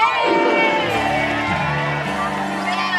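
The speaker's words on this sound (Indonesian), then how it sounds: "tepuk tangan untuk Sony" A studio audience on an Indonesian TV comedy show cheers and whoops loudly and continuously, a dense crowd roar with shouts rising through it and voices mixed in.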